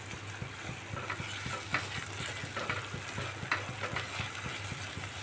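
Nut and melon seed paste sautéing in a pan over raised heat, a soft continuous sizzle with regular stirring strokes scraping at a steady rhythm, close and quiet, no speech.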